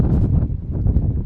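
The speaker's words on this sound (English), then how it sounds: "I'm up here now. It's windy." Heavy wind buffets the microphone on an exposed hill in Glen Tromie, Scotland, a loud low rumbling roar that surges and dips throughout without any speech.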